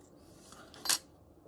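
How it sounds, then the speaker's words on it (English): One quick, crisp snip trims excess polymer clay away from a bangle form, a single short cut heard close up against a quiet background. "And then, of course, you have to cut the excess, usually on an angle."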